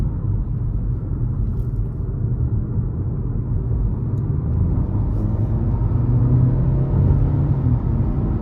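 A 2023 Nissan Altima S accelerating hard onto an interstate, heard as a steady, loud low engine and road rumble that swells slightly toward the end, with no talk.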